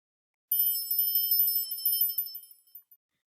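Timer bell alert from SMART Notebook classroom software: a bright, high electronic ringing in rapid repeated pulses, clean and alone, lasting about two seconds before trailing off in a couple of final blips.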